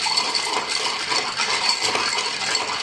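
A spoon stirs a dry martini of gin and dry vermouth in a mixing glass, giving a steady, close, continuous clinking and rattling for the whole stretch with no talk.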